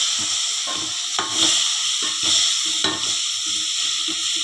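Tamarind water with salt heats in a pan for a coriander-stem chutney, giving a loud, steady sizzle and hiss with rhythmic stirring scrapes throughout and no talking.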